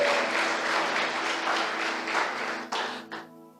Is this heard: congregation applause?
yes